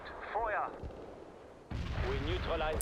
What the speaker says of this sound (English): Those guys are still just bombarding that, whatever.